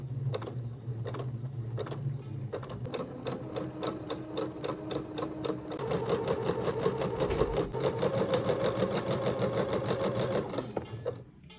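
Sewing machine stitching batiste fabric for a child's dress, steady rapid needle clatter that starts slower and then runs faster and louder for several seconds before stopping, close with no talking.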